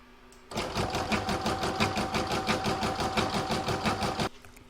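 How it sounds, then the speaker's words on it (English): An embroidery sewing machine stitching fabric in the hoop runs in a fast, even mechanical chatter of needle strokes, starting abruptly and stopping cleanly after a few seconds, close and alone. "Okay, that's now ready to stitch."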